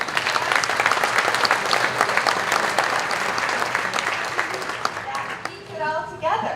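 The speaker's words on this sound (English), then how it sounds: "So let's give a big round of applause." A company meeting audience applauds a staff promotion with steady, dense clapping from many hands, loud and continuous, fading slightly near the end as a voice begins.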